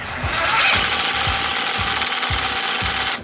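A power tool rattles in repeated short bursts, tightening the flywheel nut on a Predator 212cc engine for a modified KT196 go-kart, loud and close, a rhythmic impact chatter running nearly unbroken for about three seconds.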